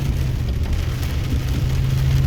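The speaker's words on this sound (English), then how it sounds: "It's just a steady downpour out there." A steady downpour drums on a tractor cab with a leaky windshield, a dense, constant wash of rain noise with a low rumble underneath and no pauses.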